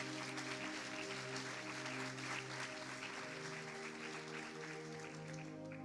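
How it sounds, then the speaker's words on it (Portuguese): A church congregation claps steadily and loudly throughout, with sustained music tones underneath the applause. "Aplauda ao Senhor por isso."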